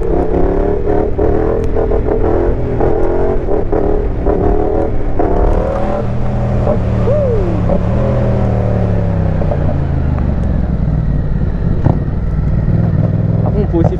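A Yamaha Tracer MT-07 motorcycle engine roars loudly and steadily up close while riding a wheelie, its pitch rising and falling with throttle changes under heavy wind noise.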